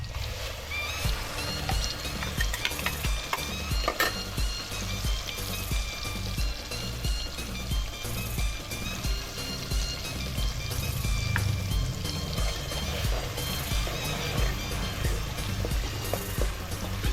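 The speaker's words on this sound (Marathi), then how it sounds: "तेलामध्ये फ्राय करणार आहोत" A ground paste of coconut, chili, coriander and garlic fries in oil for a crab curry, a steady, close sizzling crackle with spoon scrapes and clinks throughout and no talking.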